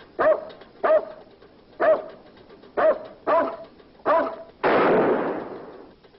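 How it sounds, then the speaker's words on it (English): A dog barks in a black-and-white film, The Hitch-Hiker, during a roadside stop where a gas pump lock is broken: six sharp, evenly spaced barks ring out loud and close, then a burst of broad noise follows. "A dog starts barking"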